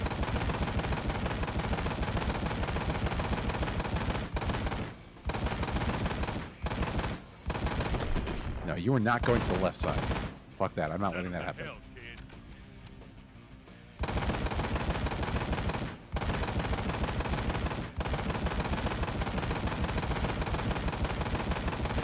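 Heavy automatic gunfire from the Xbox 360 game Ride to Hell: Retribution pounds in long, loud bursts broken by short pauses and a quieter middle stretch. Someone talks excitedly over the shooting.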